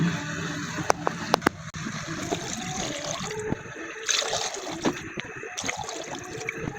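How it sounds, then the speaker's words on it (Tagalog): Water is poured into a pot of mussels whose shells have opened, a steady trickling and splashing at close range, with faint clinks from the pot and no talk. "maglalagay na tayo ng tubig diyan"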